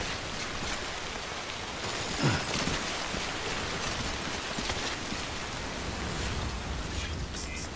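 Steady rain falls in the video game Death Stranding, a dense even hiss that carries on without a break for the whole stretch, with no voices over it.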